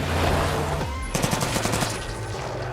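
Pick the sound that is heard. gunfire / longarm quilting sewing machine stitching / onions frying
gunfire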